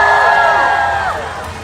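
A crowd at the 2018 Minnesota State Fair cheers and whoops around a Rubik's Cube solving demonstration, a loud burst of sustained yelling voices that fades slightly toward the end.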